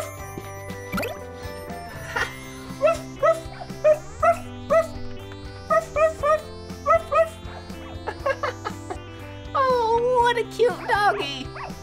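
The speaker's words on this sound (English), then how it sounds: "I spy with my eyes a dog." A cartoon-style dog gives a series of short, evenly spaced bow-wow barks and yips in the middle of the stretch, set against steady background music with a brief voice near the start.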